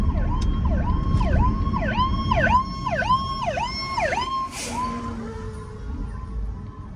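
A Richmond Fire truck siren (truck 13) in Richmond, Virginia, cycling loudly in rapid repeated wails, then settling into a longer tone as traffic rumbles underneath.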